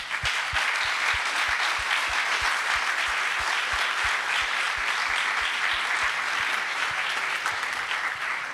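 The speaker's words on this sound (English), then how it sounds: "so a big round of applause for them" An audience at the Formula Student East 2023 business plan presentation finals applauds the finalists. The clapping is sustained and crowded, with a regular low thumping beat running underneath, and no one speaks over it.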